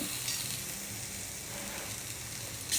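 Ginger-garlic paste and green chili paste fry in a pan with a steady, dense sizzle that holds evenly throughout, close and continuous, with no talking.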